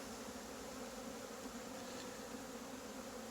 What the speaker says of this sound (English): the bees look really good.